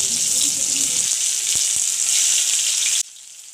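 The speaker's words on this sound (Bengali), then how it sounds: "ওই একই কড়াইতে তেল দিয়ে তেলটা গরম হয়ে এলে আমরা পেঁয়াজটাও ভেজে নেব।" Onions fry in hot oil in a wok with a loud, close, continuous crackling sizzle and a couple of soft knocks. The sizzle drops sharply to a quieter hiss near the end.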